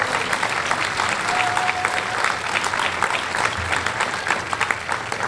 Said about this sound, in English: And I would like a round of applause for each and every one of you who made that come true.